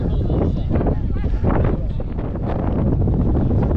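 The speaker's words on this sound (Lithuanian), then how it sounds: "ir vėsų iš tikrųjų, kai vėjas pučia" Strong wind gusting across the open desert plateau by the Giza pyramids, a loud rumbling buffet on the microphone throughout, with a person talking underneath.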